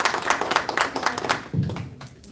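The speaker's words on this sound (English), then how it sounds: "round of applause for" A small audience at a college event claps in a brief, uneven round, a few distinct hands rising and falling before the clapping thins out and fades near the end.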